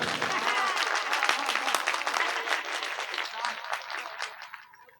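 Audience at an All India poetry mushaira in Madhubani breaks into dense clapping applause that stays strong, then thins and fades out toward the end.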